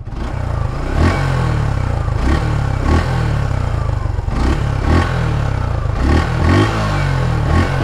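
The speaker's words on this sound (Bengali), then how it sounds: "এই বাইকের ইঞ্জিন নোট, এই বাইকের এক্সস্ট নোট দুটোটাই পারফেক্ট" A Suzuki Gixxer 155 cc motorcycle engine roars loudly and continuously nearby, its deep exhaust rumble pulsing with repeated throttle blips.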